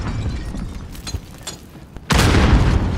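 A grenade blast in Modern Warfare (2019) Search & Destroy erupts suddenly and loudly after scattered distant gunfire, its broad roar sustained to the end.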